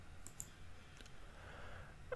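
Computer mouse clicks, a few small, sharp ticks spaced apart over a quiet, faintly humming background, close and isolated with no talking.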